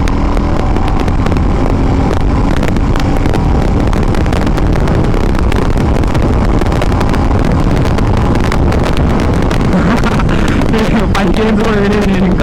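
A Royal Enfield Classic 350 motorcycle rides at high speed on an open road in upper gears, its steady engine drone buried under loud, constant wind buffeting on the microphone.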